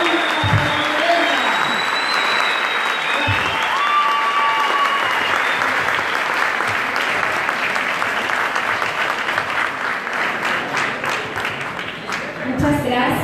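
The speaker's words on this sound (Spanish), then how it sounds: "Damos un fuerte aplauso al futuro presidente de la República Salvadoreña." A crowd at a political speech event in Milan applauds the future president of El Salvador with long, sustained clapping that stays loud for most of the stretch, a few whistles and cheers mixed in, and a voice speaking briefly toward the end.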